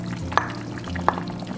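Tofu and pork intestines drop into a hot pot of sizzling sauce for a Cantonese-style braised intestine casserole, giving a steady fry crackle with two sharp splashy hits as pieces land.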